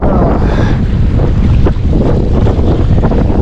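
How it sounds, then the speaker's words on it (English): Strong wind on the ocean off the Oregon Coast buffets the microphone of a fishing kayak, a loud, constant roar of gusts and surf with no talking. "The wind is kicking our butt today."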